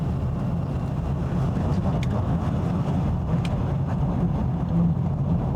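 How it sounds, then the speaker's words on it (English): Aston Martin V8 engine bellowing on a road drive, a steady, loud low-pitched roar with wind rush, continuous throughout without notable revving changes. "That lovely Aston Martin bellow."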